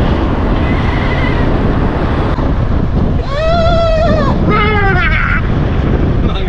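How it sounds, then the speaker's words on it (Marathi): A goat near a roadside on a road trip toward Alibag lets out two wavering bleats in quick succession, loud and fairly close, over constant wind rumble. "अरे एक बकरी आहे ना आपल्या जवळ."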